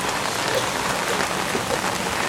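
Steady rain patters on a surface in a dense, even hiss, with no pauses or other sounds standing out.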